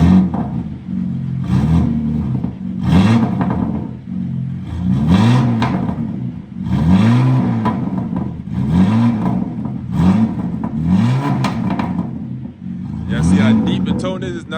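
A BMW M4 Competition with a loud aftermarket exhaust revs repeatedly in rising, deep-toned surges, loud and close, each pull separated by brief idles; no clear talk over it.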